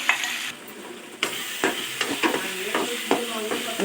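Ginger garlic paste sautés in a pan for a duck egg curry, with a soft crackling sizzle under a series of close, sharp scrapes and knocks from stirring that land at irregular intervals.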